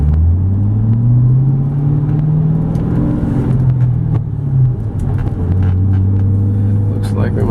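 A 2005 Ford Mustang Roush cruises through a construction zone, its engine a steady low droning rumble that rises and falls slightly in pitch, heard from inside the cabin under someone talking.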